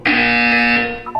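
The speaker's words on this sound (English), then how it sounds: "When you hear the buzzer, look up at the ceiling." A single loud, harsh electronic buzzer from the video game Portal sounds for about one second as a sustained tone, then ends in a short fading blip.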